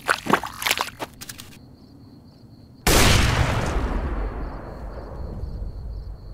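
Gunfire in Fallout: New Vegas: a quick volley of sharp shots, a lull with a faint repeating tone, then one heavy booming blast that decays slowly into rumble.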